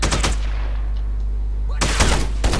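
Assault rifle gunfire in the video game S.T.A.L.K.E.R., with loud rapid bursts at the start, a pause, then more bursts near the end.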